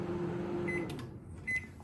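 A microwave oven hums steadily while heating a jug of milk, close by and moderately loud, with a couple of faint clicks and a brief thump near the end.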